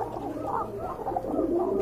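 A domestic pigeon coos close by in a soft, continuous, low burbling run of calls with no pauses.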